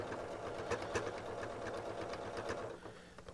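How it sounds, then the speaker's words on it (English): A sewing machine runs in a steady, close mechanical whir while it back-stitches a short reverse stitch to lock a seam on a soft eye pillow, easing off at the end with no talking. "And then we will do a reverse stitch to lock it in."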